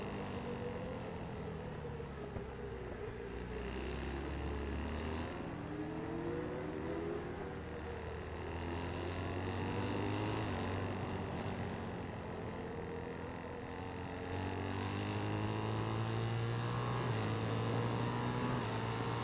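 Superbike engine in the racing game Ride 4, droning steadily and rising and falling in pitch as it revs through gears, loud and continuous with no talk over it.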